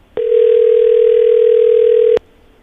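A steady telephone call tone sounds alone for about two seconds during an unanswered phone call on a radio morning show, loud and unbroken, starting and stopping abruptly.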